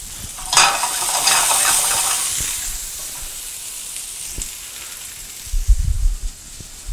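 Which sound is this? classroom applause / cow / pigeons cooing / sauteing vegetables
sauteing vegetables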